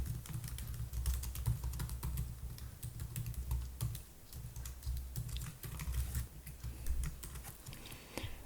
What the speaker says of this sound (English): and I will type text.